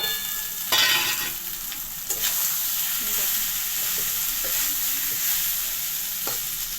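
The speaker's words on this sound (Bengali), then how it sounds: "মা এবারে কিন্তু যে ভাতটা আমরা করেছিলাম সে ভাতটা এবারে ওটার মধ্যে দিয়ে দিচ্ছে" Cooked rice stir-fried in a pan for fried rice, with its steady hiss and sizzle broken by several scraping stirs of a spatula. The sound is close and continuous, with no talking.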